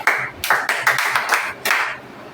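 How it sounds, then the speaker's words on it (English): A class claps in quick, uneven bursts, a short ragged round of applause heard close up. "Clap for yourself again."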